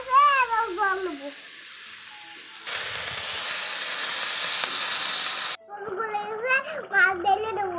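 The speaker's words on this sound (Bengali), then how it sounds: "কষানো হয়ে গেছে, এবার জল নেবো।" Water is poured into a pan of sizzling, fried-down curry spices in a village kitchen, giving a loud burst of steam hiss lasting about three seconds, with someone talking before and after.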